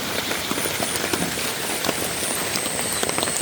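Light rain patters on a paved road during rainy-day fishing, a soft, even hiss dotted with scattered little drop ticks, fairly quiet and unbroken, with no voices.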